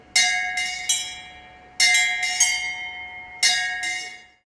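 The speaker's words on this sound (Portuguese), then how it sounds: "Cada badalada caracteriza um acontecimento." A church bell rings clearly in about eight strikes grouped in uneven clusters, each ringing out and decaying before the next, with no voices.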